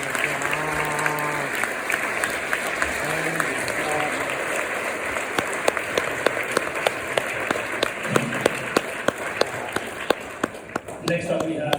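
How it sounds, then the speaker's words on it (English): A conference audience at the Plan B Forum in Lugano gives sustained, dense applause to welcome a panelist, with a voice speaking over the clapping at the start. "give them a very warm round of applause"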